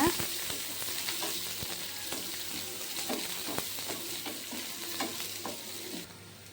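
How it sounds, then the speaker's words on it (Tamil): Sliced onions sautéed with mustard seeds and curry leaves in hot oil crackle and sizzle steadily, with repeated clacking strokes of a spatula stirring the pan, close and moderately loud, no voices. "கட் பண்ணி வச்சுருக்க பெரிய வெங்காயத்தை சேர்த்துக்கிறோம் சேர்த்து நல்லா வதக்கிக்கலாங்க"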